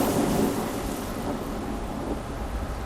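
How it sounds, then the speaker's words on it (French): Thunderstorm outside with heavy rain hissing steadily on surfaces and a low rumble of thunder underneath, a dense, continuous wash of sound with no talking. "c'est l'orage dehors"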